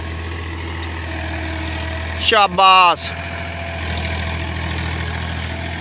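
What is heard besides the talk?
Powertrac Euro 50 tractor engine idling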